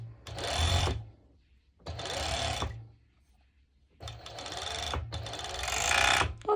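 A sewing machine runs in four bursts of rapid whirring stitches, each about a second or longer with short pauses between, sewing a ruffle onto a mini skirt up close with no voices.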